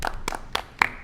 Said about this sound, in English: And round of applause lah.